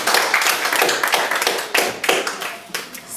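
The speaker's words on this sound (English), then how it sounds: "Someone give him a round of applause." A small group claps for a student in a classroom, steady broadband patter of hands close by with uneven swells, no talking over it.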